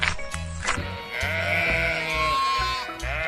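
A sheep bleats several times in a row, loud and close, its wavering cries overlapping over a low steady background.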